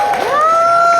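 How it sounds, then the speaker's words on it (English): Convention panel audience at San Diego Comic-Con cheering in a sustained, loud burst, with a whistle-like tone gliding upward above the crowd noise throughout. "There's a round of applause. Let them hear you."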